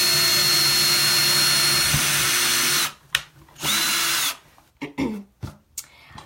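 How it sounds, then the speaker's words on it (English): A power drill bores a hole in a DIY wooden serving tray, running loud and steady for about three seconds, then stopping, followed by a second shorter burst and a few brief bumps and handling noises. "Now I'm going to drill the second."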